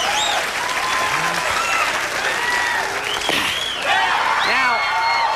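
A late-night talk show studio audience in Los Angeles claps and cheers loudly throughout, a dense sustained roar of applause with whoops and voices mixed in.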